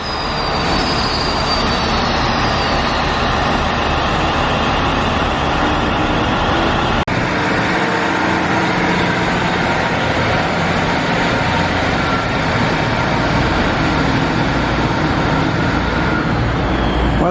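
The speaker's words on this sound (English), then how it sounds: "There's our train just departing." A train pulls away from a station near Rugeley, a loud, steady roar of rolling wheels and engine noise close by, with a thin wheel squeal running high above it throughout.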